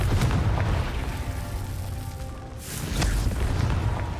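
A Confringo blasting spell from Hogwarts Legacy goes off as a loud, booming explosion, with a dip in the middle before a second burst swells again, no voices present.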